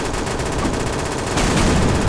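M249 machine gun firing in a video game, a dense, unbroken stream of rapid automatic shots, loud and close, that swells even louder for the final stretch.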